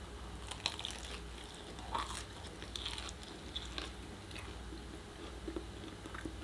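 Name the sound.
biting and chewing crunchy waffle crust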